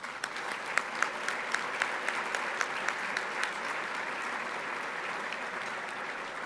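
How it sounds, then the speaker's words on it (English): Audience applause at a Catholic school alumni dinner after a keynote address, sustained and even with a few sharper claps standing out, moderately distant in a large banquet room. "they deserve your applause"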